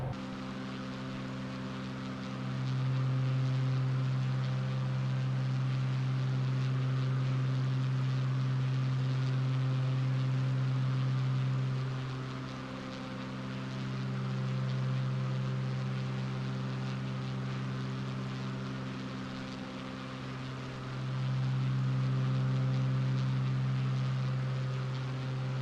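Steady drone of a Carenado Bonanza F33A single-engine propeller plane in Microsoft Flight Simulator 2024, a constant low hum that swells louder in three long pulses, with no talk over it.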